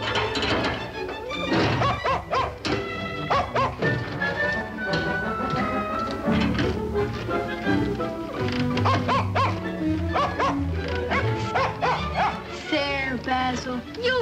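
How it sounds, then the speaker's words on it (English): A dog barks, yips and whimpers from inside a crate indoors, the sounds repeating through a loud, busy mix of talk and music that runs the whole time. "Hasn't anyone let that poor dog out of its crate yet?"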